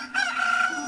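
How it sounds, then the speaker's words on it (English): A chicken in the video game The Legend of Zelda: Ocarina of Time giving a single short, bright squawking crow, loud and close, lasting under a second. "Chicken!"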